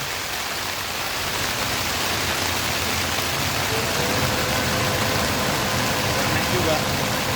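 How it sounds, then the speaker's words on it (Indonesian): Dense, steady roar of heavy rain with a low truck engine rumble underneath as a fuel tanker climbs a slope, continuous and loud throughout. "Hujan deras di sini bosku"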